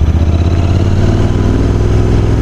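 A Royal Enfield Continental GT 650 motorcycle engine runs steadily up close, a loud, continuous low throb with an even mechanical rumble and no voices.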